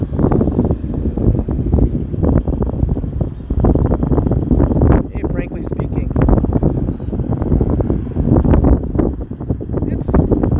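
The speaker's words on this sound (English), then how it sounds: "Windy. There's a cool breeze, which is actually pretty nice." Heavy wind buffets the microphone in constant roaring gusts on a Toronto street in Etobicoke, nearly drowning out a person talking underneath.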